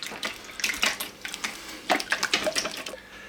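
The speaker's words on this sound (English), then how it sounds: "use my sexy red whisk of death and just give them a light beating until all the yolks are broken" Six eggs are beaten lightly with a red whisk in a bowl, a quick series of wet, splashy strokes in two short bursts, close and moderately loud with no talk.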